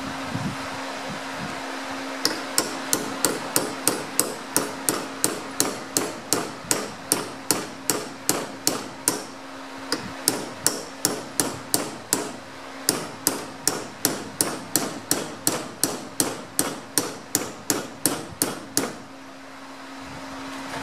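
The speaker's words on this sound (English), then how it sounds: "I'm going to drive this sight out of that channel with a punch" A hammer strikes a punch to drive a Y-notch sight out of its dovetail channel on a CZ P10C pistol, dozens of sharp, close metallic taps in quick steady rhythm with a brief pause midway, over a constant hum.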